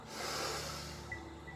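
A sharp, forceful inhale through the nose during a gentle yoga breathing exercise, a single close breath that rises quickly and tapers off.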